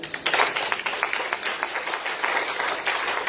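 A congregation in a church claps for a few seconds, a fairly close, uneven patter of hands with no voices over it.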